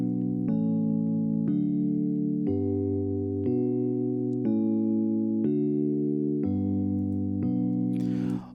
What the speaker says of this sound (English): electric piano, and then it will sound like this